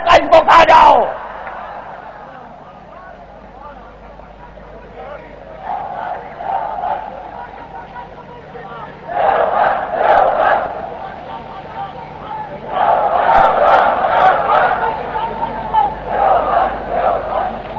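A large crowd chants slogans at a Sunni religious gathering, answering in loud, swelling bursts of massed voices that come in waves after a lone leader's call, with a hall-like echo between the surges.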